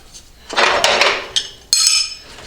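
Metal 22mm Mastercraft wrenches clatter and clink as they are handled and set into a tool drawer, a few close, bright jangling bursts with no talk.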